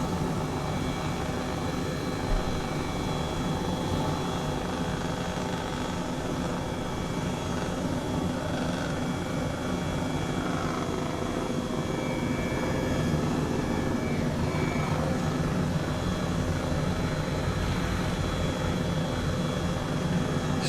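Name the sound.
H135 helicopter flying, Microsoft Flight Simulator video game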